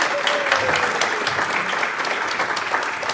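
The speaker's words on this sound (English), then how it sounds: "Please give a round of applause to Beth and Arié Dahan." An audience at an evening member event claps steadily for a couple of guests, a dense sustained round of applause from a moderate-sized crowd filling the room.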